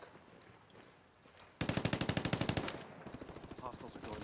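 Quiet ambient rumble in the video game Ghost Recon Wildlands, then a sudden burst of rapid automatic gunfire, about a dozen sharp shots in quick succession, fading into scattered noise.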